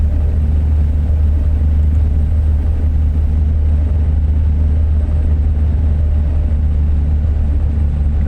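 A steady, loud low rumble from an International Lonestar truck engine hauling double trailers through Portland in American Truck Simulator, droning on without a break and without talk.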